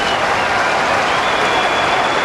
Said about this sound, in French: Quelle salve d'applaudissements pour les 3 balles de break obtenues par le Suisse